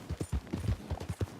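Horse hooves in Red Dead Redemption II beat in a quick, steady galloping rhythm. The thuds are fairly faint and moderately close, with no talk over them.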